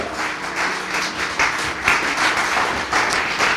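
A church congregation applauds during a sermon, broad continuous clapping from many people that swells and dips in waves, close and loud with no clear speech.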